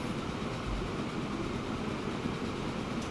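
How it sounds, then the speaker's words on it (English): A long coal train rumbles past steadily in the railway simulation game Transport Fever 2, a continuous dense rolling roar with faint clattering, loud and unbroken, with no talk. "and there goes the coal train."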